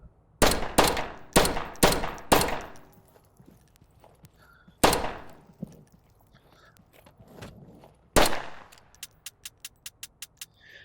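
A pistol emptied rapidly, seven sharp, loud, close shots fired in quick succession with quieter gaps between them, followed by a trailing series of faint rapid ticks.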